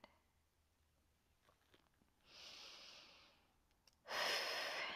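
Slow, audible breath released during a quiet morning yin yoga session: a soft airy exhale rising after a near-silent pause, then a second, louder and breathier rush of air close to the microphone.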